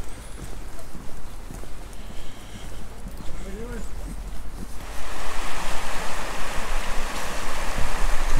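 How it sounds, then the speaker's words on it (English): A river runs past a small bridge in Newcastleton, Liddesdale, in the Scottish Borders. Its steady rushing water grows noticeably louder halfway through, with faint voices in the background. "the sound of running water"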